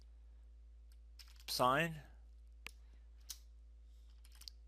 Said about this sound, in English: hit enter on your keyboard again